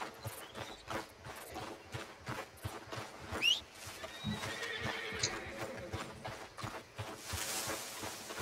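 A horse in the video game Red Dead Redemption 2 whinnies loudly while hooves clip-clop in a steady rhythm, with a brief rising call and some rustling in the background.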